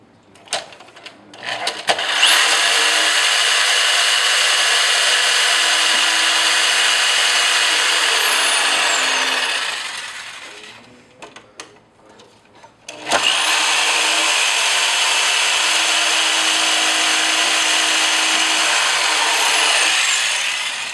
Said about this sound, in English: after you cut that part out with your skill saw, then you get your jigsaw and finish it out